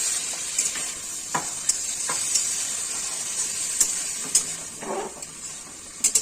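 Soaked ground spice paste hits a hot pan while cooking a sour potato and eggplant curry, sizzling steadily and loudly up close, with occasional stirring scrapes over the continuous hiss.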